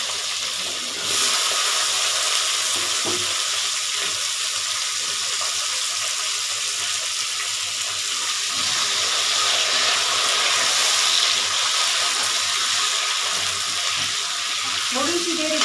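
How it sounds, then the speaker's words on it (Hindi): Potatoes for aloo tahari fry in a pan with a steady, close sizzle that hisses continuously throughout, with faint clinks of stirring and no talk. "थोड़ी सी देर इसको फ्राई कर लेंगे।"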